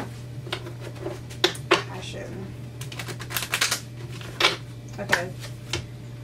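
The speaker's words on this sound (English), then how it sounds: "I hate when I try to shuffle for that long." A deck of cards being shuffled for a pick-a-card reading gives scattered soft riffles and snapping clicks in irregular bursts. The sound is fairly quiet over a steady low background hum.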